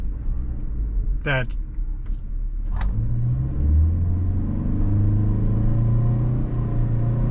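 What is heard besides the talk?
2025 Toyota Sienna hybrid minivan engine during a downshift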